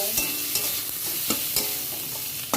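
Chopped vegetables and a large tomato get stirred in a hot frying pan, with a few sharp utensil knocks and scrapes over a constant bright sizzle.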